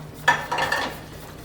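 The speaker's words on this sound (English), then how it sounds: "I'm going to whisk this in." A whisk works roux into a simmering sauce in a pot, giving a few quick metallic scrapes and clinks close by, followed by quieter stirring, with no talking.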